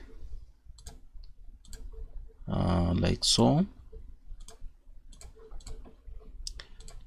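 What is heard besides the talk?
keyboard key presses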